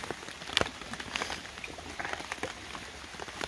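Heavy rain falls on a lake during a kayak outing, a busy patter of drops with scattered sharper splashes and taps nearby, moderately loud and without speech.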